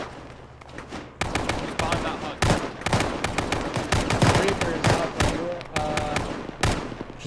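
Dense bursts of video game gunfire crackle and pop continuously during an aircraft gun run, rapid automatic shots mixed with heavier booms, loud and close, with voices faintly underneath.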